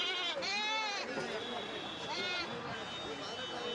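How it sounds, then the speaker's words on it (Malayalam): Goats bleat repeatedly at a busy festival goat market in Kerala where black billy goats are for sale. Several wavering cries rise close by over a constant crowd murmur and nearby voices. "കറുത്ത മുട്ടനാടുകൾ കുറേ ഇതായി ഇവിടെ നിൽപ്പുണ്ട്"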